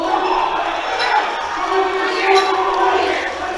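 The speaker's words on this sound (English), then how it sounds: "From the sound of the crowd, he got it" A large crowd at a powerlifting meet roars and cheers continuously after a completed lift, loud and sustained with shouts rising and falling throughout.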